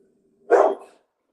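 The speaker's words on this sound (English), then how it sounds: "I'm not gonna even try to talk over that bark." A single loud dog bark rings out close by, a short sharp burst that fades quickly, with a faint low hum beneath it before the bark.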